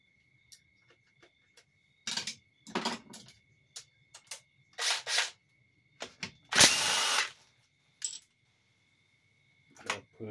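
Power tool, most likely an impact gun or drill, removing bolts from a 4L60E automatic transmission during a rebuild: a series of short whirring bursts separated by pauses, the longest near the end, close and fairly loud with no talk.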